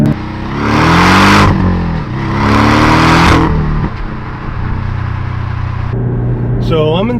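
A Porsche Cayman S pulls hard on the road, its engine roaring up through two loud rising surges with a gearchange between them, then settling into a steady cruising drone.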